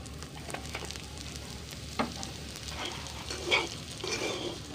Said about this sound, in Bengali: তেল দিয়েই এইভাবে নাড়াচাড়া করতে করতে আবারও বেশ কিছু সময় এটা ভেজে নেব।